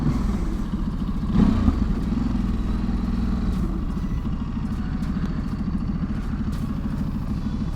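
A Ducati Desert X motorcycle engine idles steadily nearby, a low rhythmic chug throughout with a brief clatter early on.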